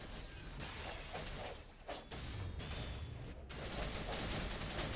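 Rapid bursts of gunfire in the Wuthering Waves video game come as dense crackling volleys with short gaps, loud and close, without speech.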